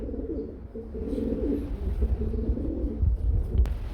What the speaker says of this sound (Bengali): পারবিন কবুতর না হোয়াইট কালারে এটা হচ্ছে পারবিন কবুতর